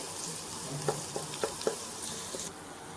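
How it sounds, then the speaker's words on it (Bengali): Chopped onions frying in leftover tilapia-frying oil give a steady soft sizzle, broken by a few sharp clinks and scrapes of stirring, close and moderately loud. "তো পেঁয়াজটা ভাজা হয়ে গেছে"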